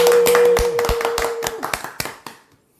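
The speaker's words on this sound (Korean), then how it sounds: "자, 박수 한번 치시죠." A few people clap their hands at the start of a podcast recording, a short burst of close, distinct claps that thins out into scattered claps and stops.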